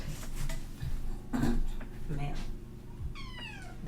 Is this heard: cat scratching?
yes